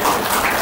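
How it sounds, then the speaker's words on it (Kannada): Audience applause at a Kannada book and film song release event, a brief burst of many hands clapping together. "ಒಂದು ಜೋರು ಚಪ್ಪಾಳೆ"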